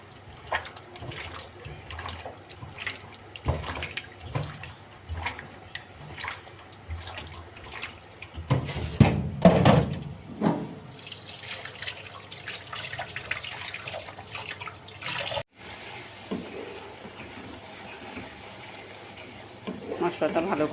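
Rohu fish being washed with turmeric and salt under a running kitchen tap, water splashing and trickling into a sink with handling clatter, a steadier flow later on, moderately close.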